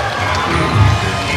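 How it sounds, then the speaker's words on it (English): A boxing crowd at the Ben Hussain versus Wes Capper fight keeps up a steady, loud, enveloping roar of cheering throughout. "The crowd enjoying this fight between Hussain and Kappa"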